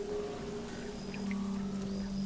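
Ambient background of the corruption biome in the video game Terraria: a steady low droning hum with a sustained higher tone, faint shimmering chimes drifting in and out, continuous and even throughout with no voices.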